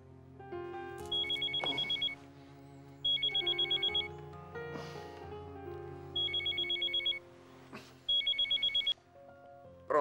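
Telephone rings in the entrance hall during an Italian television comedy scene: four bursts of rapid, bright electronic trilling, each about a second long, over a steady background music bed, with no talk.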